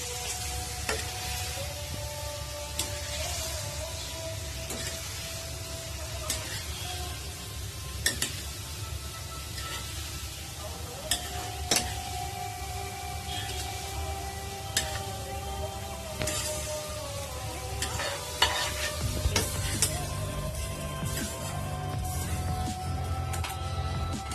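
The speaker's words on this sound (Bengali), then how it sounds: "আনারসগুলা ভাজা হয়ে গেছে, এখন আমি নিয়ে ফেলতেছি।" Fried pineapple pieces sizzle in oil in a pan while a utensil stirs and scrapes, with occasional clinks of metal against the pan, steady and close with no talking.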